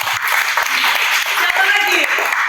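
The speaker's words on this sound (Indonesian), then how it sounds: "tepuk tangan untuk kami" Brief burst of classroom applause from students during a religious education lesson, dense clapping with some voices mixed in.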